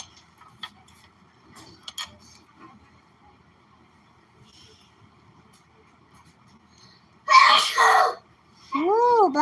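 A single sharp sneeze bursts out during a quiet wire-wrapped necklace session, following several seconds of soft ticks and small handling noises, and a voice speaks right after it.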